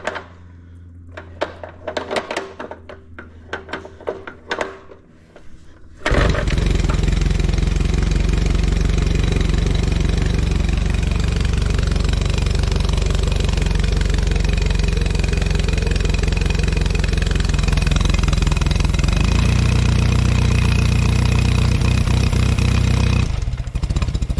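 A pre-war Riley Brooklands car engine cranks with a few uneven bursts, then catches and runs steadily, a loud close continuous idle that holds for the rest of the clip with a slight shift in tone near the end.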